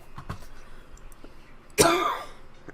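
A few faint throat noises lead up to one sharp, loud cough near the end, close by and otherwise quiet.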